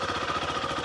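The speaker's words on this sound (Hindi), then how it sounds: "देखो ये आपकी बाइक हो गई स्टार्ट" Zontes ADV 350T motorcycle engine idling steadily after starting, a close, even, pulsing mechanical rumble throughout with no talk.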